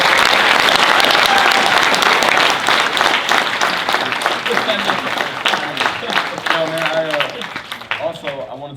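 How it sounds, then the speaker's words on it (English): A crowd at a fashion trade show event applauds and cheers loudly after an interview with Ben Baller, dense clapping that gradually thins as voices and chatter rise over it. "Let's give him a round of applause"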